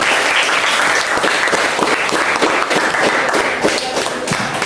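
Loud, dense applause from a school class after a group reads its short story, many hands clapping steadily and close by for several seconds without pause.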